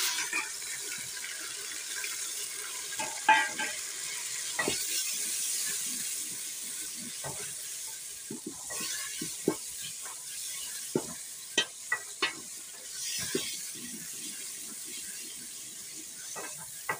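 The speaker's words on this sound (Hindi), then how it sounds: "और आधे प्याज में हम अपना अदरक लहसुन हरी मिर्च टमाटर भून लेंगे।" Ginger, garlic, green chili and tomato frying in oil with onions for whole masoor dal, giving a steady sizzle broken by stirring clinks and scrapes of a spoon against the pan.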